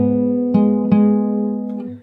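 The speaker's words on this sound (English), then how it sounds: "And then you play this note 2 times." A single guitar note is plucked twice over a ringing bass drone in a slow fingerstyle arrangement of a song. The two clean attacks come about a third of a second apart, then the strings decay alone.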